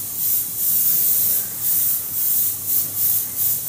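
A spray can lays clear coat over a custom chrome-painted remote control, giving a loud steady hiss in several bursts of spraying, each fading briefly between passes, with no voices.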